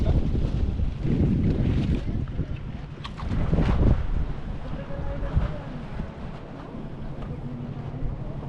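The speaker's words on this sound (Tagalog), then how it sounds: "Ang lakas pa rin ng hangin." Strong wind roars and buffets against the microphone outdoors while fishing at Carabao Island, with gusts rising and falling and faint voices underneath.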